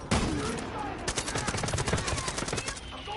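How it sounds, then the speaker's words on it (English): Rapid game gunfire and artillery blasts in Far Cry 5 combat, a dense continuous barrage of sharp cracks that starts abruptly and keeps pounding for several seconds, loud and close with no pause. "Bit of artillery coming my way"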